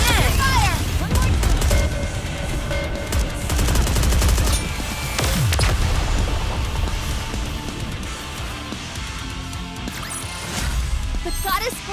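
Squad gunfire in NIKKE during the RED ASH event, sustained loud overlapping bursts and crashing impacts with voices speaking over the shooting.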